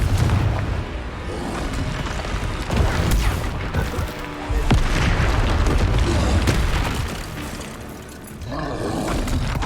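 Confringo spell explosions in the Hogwarts Legacy video game. Loud booming blasts and roaring crashes follow one another almost without a break, layered over dense game sound.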